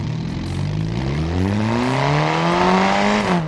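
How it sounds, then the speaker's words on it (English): A loud engine in the BeamNG video game, a luxury ETK sedan's straight-four petrol with 188 horsepower, revs up, its raspy exhaust note climbing steadily in pitch, then drops off sharply at the end. "listen to this exhaust"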